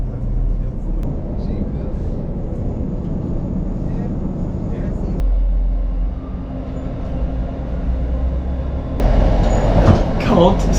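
A train rumbles along steadily near Dent in the Yorkshire Dales, in fog just after crossing a viaduct, with a loud low clatter and louder rattling toward the end.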